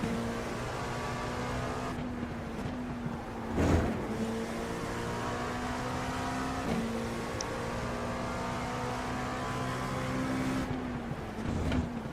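Race cars in iRacing at Laguna Seca during an IMSA event with LMP2 and GTP prototypes, a continuous droning engine whine with shifting pitch, one brief louder burst partway through.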